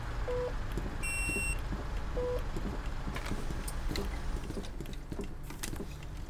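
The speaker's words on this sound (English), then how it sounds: "Will you lot please stop ringing that bell?" Bus stop request bell chiming twice inside a bus in OMSI 2, two short electronic dings over a steady engine rumble and road noise.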